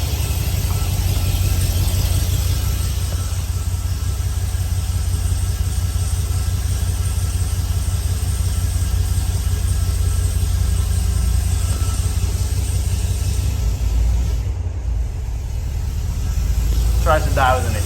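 A truck idles roughly just after a Snow Performance fuel pump install, its steady low engine rumble running loud and close throughout, with a brief dip near the end.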